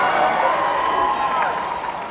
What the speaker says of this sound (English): they're applauding for like the wrong thing out here